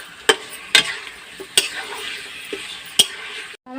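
Chicken for a milk korma frying on high heat in a pan, giving a steady bright sizzle with several sharp clinks of a utensil stirring against the metal.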